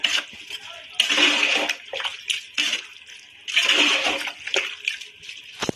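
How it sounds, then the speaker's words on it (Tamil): Water poured into a pot of mutton curry in a home kitchen, coming in two separate splashing bursts with quieter pauses and clinks between them. "வந்து தண்ணி ஆட் பண்ணணும்."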